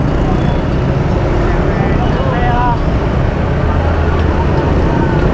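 Jammed traffic at the Ciwidey junction gives a dense, steady rumble of idling and creeping vehicles, engines droning close by with no clear breaks.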